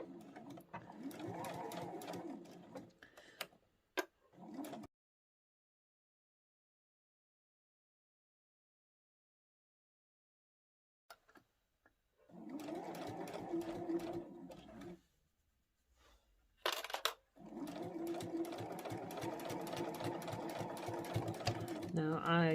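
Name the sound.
sewing machine stitching and back tacking a phone pouch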